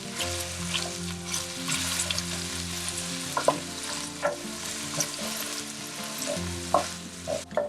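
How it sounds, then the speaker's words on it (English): Thinly sliced onions fry for curry pakora in a steady, loud sizzle, broken by scattered spatula scrapes and stirring knocks, with a faint tonal hum beneath and no talk. "Fry until the onions turn light golden brown."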